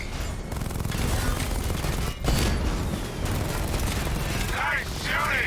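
Sustained video-game gunfire in Batman: Arkham Knight, a dense rattling barrage of shots with booms, continuous and loud across the whole stretch, with a voice talking over it.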